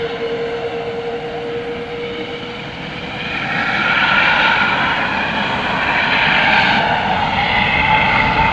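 A plane taking off at night at DFW Airport sends a broad, steady engine roar across the field, holding a rumbling drone before swelling louder midway as it gathers power, with no voices.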